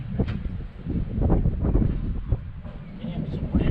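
Steady wind buffets the microphone with a low, rumbling roar throughout, while people talk nearby.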